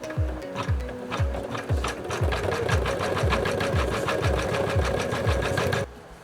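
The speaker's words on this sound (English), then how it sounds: "we're going to go ahead and run the placement stitch so we know where to lay down our clear vinyl" An embroidery machine runs a placement stitch for clear vinyl appliqué on a feltie, giving a steady, fast, close mechanical needle rhythm with regular repeating thumps for about six seconds before stopping abruptly.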